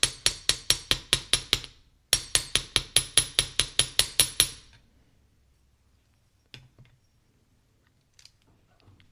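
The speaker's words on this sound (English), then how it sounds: "I will flatten this curve out with the chasing hammer" Rapid, evenly spaced metallic chasing-hammer taps flattening jewelry wire, about eighteen sharp strikes in two runs with a short pause between, then near silence with a couple of faint knocks.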